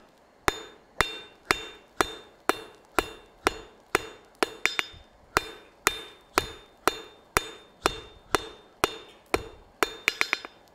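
Metal handles struck with a hammer on an anvil during a forging demonstration, sharp ringing blows at a steady pace of about two per second, with a quick flurry of lighter taps near the end, no talk.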